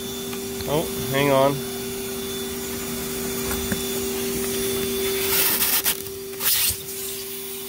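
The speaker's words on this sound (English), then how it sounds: "it's powered by a shop vac, or right now a vacuum cleaner" A shop vac drawing intake air for a boosted waste oil burner drones steadily inside a box of insulation panels, a continuous hum with a short remark and a few clunks near the end.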